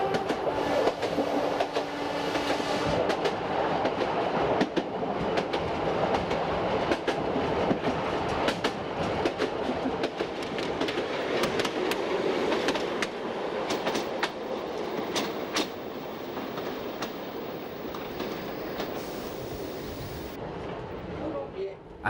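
Steam museum train running on a narrow-gauge railway in the Ardèche, with steady rolling rail noise and clickety-clack wheel rhythm throughout, close and continuous, with faint voices in the background.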